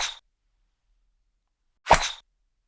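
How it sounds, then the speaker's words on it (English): Two short, sharp bursts separated by a quiet gap: a golf club striking the ball, each one brief and fairly close. "This is the sound of a golf shot"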